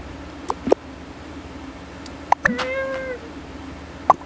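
A cat meows a few times, short calls followed by a longer drawn-out meow, close by over a low steady hum.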